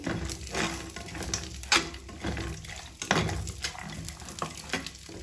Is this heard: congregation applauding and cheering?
no